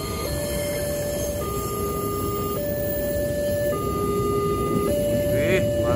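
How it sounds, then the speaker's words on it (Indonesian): A night-time KLB special train with conservation carriages passes the Bogor Paledang level crossing. A loud, steady rolling rumble runs throughout, under clear alternating two-tone crossing warning signals. "Beserta rangkaian konservasinya masuk Bogor Paledang ya. Ini melintas langsung."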